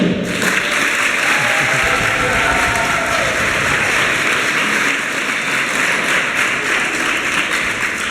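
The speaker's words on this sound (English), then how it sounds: "And of course, a special applause for Mrs." An audience at a school exchange project gathering claps steadily, a dense, loud, continuous wash of applause with no break.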